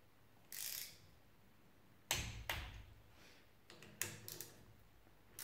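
An engine on a Derbi Senda is being bolted together with a torque wrench, giving faint, close ratcheting clicks and metallic clacks in scattered short bursts over a quiet background.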